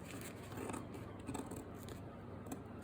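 Scissors cut through a paper bodice pattern block in a steady snipping run, faint and close, set against a continuous hiss of background noise.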